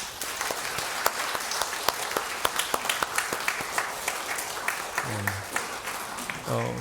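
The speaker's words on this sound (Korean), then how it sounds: "바라보시면서 박수로 환영했으면 좋겠습니다" A church congregation applauding to welcome newcomers at a Christmas service, a moderate crowd with sharp individual claps standing out, as a voice begins speaking toward the end.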